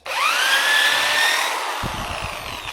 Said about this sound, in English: we're going to pre-drill our screw holes